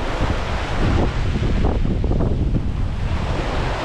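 Ocean surf rolls in at Lobo, Batangas, a loud continuous wash of breaking waves mixed with gusty wind buffeting the microphone, with no voices.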